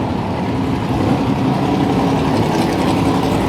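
A turbocharged Barra engine making over 1100 horsepower idles in a ute at a Powercruise event, producing a loud, steady, close low rumble throughout.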